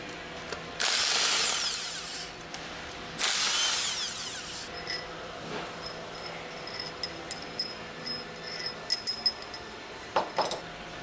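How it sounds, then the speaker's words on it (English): An impact wrench with a 10mm hex drive removes retaining bolts on an HTCK packing stack, with two loud, close bursts of whirring hammering, then a run of lighter metallic clicks and clinks as the bolts are handled. "Use the impact wrench with a 10mm hex drive attached to remove the remaining 6 retaining"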